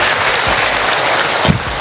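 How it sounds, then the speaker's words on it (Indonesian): Applause from a women's religious study group audience at a Cilegon gathering, a broad steady wash of clapping filling the room with a couple of thumps. "tepuk tangan untuk orang Cilegon"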